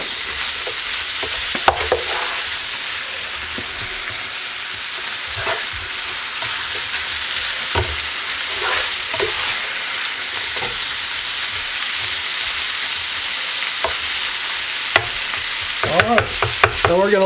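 Smoked sausage hash frying in a pan, a loud continuous sizzle throughout with repeated scraping stirs and clinks of the utensil, more active near the end.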